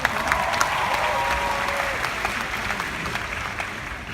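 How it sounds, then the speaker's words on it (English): A large convention audience claps steadily and densely throughout, a sustained wash of applause with faint voices and whoops mixed in. "Give yourself a big round of applause."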